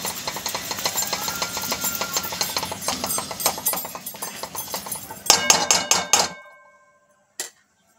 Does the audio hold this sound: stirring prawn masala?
yes